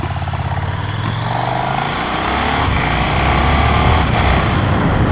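A KTM 1390 Super Duke Evo R motorcycle being ridden, its loud engine droning close and steady, pitch shifting as it pulls, with no talk.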